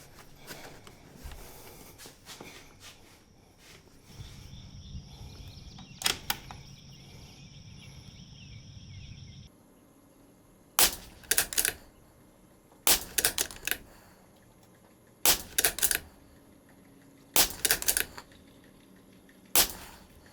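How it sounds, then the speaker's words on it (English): A rimfire rifle is fired in a series of sharp, loud individual shots spaced a couple of seconds apart during barrel fouling before a match, with quieter handling sounds earlier and no talk. "We're going to go ahead and try to foul this gun in."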